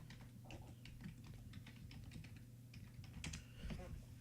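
Computer keys are tapped in quick irregular clicks as someone types a short search, close and fairly crisp over a low steady hum.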